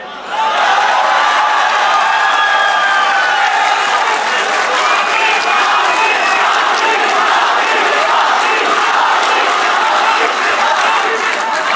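A large crowd at a mushaira poetry gathering breaks into loud, sustained applause mixed with cheers and shouts, filling the hall without pause.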